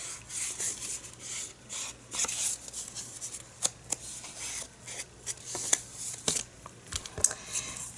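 A scoring tool is rubbed across folded paper, producing soft, close scratchy rasps in irregular strokes with faint taps, quiet and without speech.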